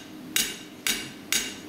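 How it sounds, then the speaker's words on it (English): A blacksmith's hammer striking hot metal while spreading it on an anvil, three loud, bright, evenly spaced blows, each ringing briefly, with no talking. "my hammer blow is essentially straight down"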